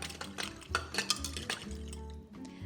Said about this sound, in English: Then I'm just gonna use a fork to mix all of that up.